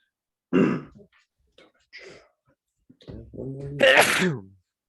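A single sharp sneeze rings out near the microphone, with a few short breaths and vocal sounds around it in an otherwise quiet room.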